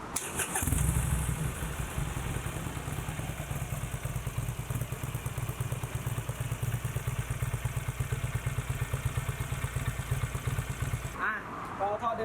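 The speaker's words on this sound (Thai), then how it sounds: "เดี๋ยวเราฟังเสียงท่อเดิมก่อน" A motorcycle engine starts and runs steadily with a deep, throbbing stock exhaust note, loud and close, continuing for several seconds before cutting off near the end.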